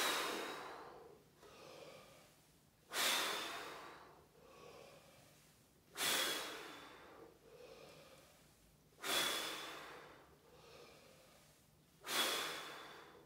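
Deep breaths during slow air squats: five audible cycles, roughly every three seconds, each a sharp rushing exhale that fades into a quieter inhale. The breathing is close and alone.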